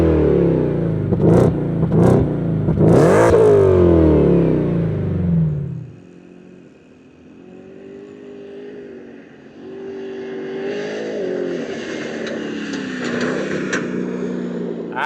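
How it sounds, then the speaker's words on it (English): A 2024 Ford F-150 Raptor R engine fires up with a loud throaty burst and several sharp revs in the opening seconds, then drops to a lower, steadier idle rumble that carries on to the end. "let's fire up this beast and hear what it sounds like"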